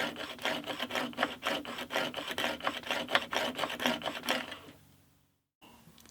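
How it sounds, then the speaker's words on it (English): A chisel sliding back and forth in a sharpening jig carriage on a honing stone makes a rapid run of rhythmic rasping strokes, close and steady for about four seconds before fading to quiet. "slide the carriage backwards and forwards while keeping the side of the tool firmly in position"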